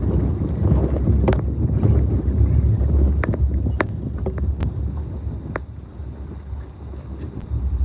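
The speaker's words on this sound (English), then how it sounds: "It's still a little windy." Steady wind rumbles and buffets throughout, a constant low roar outdoors with a few faint clicks and knocks scattered over it.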